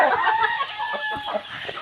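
A chicken clucks and squawks close by in a short, agitated run of calls, fairly loud and alone without speech.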